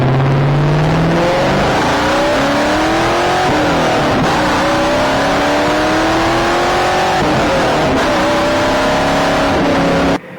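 Ford Fox body Mustang engine revving hard and loud up close, a series of rising pulls through the gears with short breaks between them, ending abruptly, no talk.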